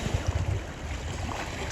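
Strong wind buffets a boat crossing a lagoon between Nida and Klaipėda, a steady roaring gust with wave wash and rumbling microphone wind noise throughout, close and continuous with no talking.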